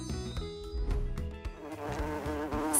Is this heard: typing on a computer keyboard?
no